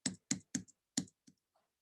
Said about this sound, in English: as I start to type